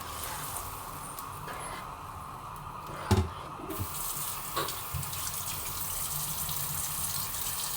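Water pours from a tap or jug into a cooking pot for rice, a steady gushing splash with a brief louder burst partway through, close and alone with no talk.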